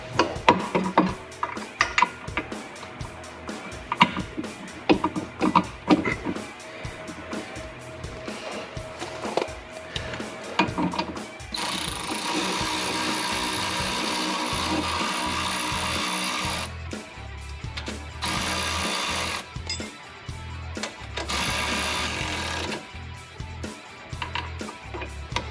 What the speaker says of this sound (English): A little more up on the jack.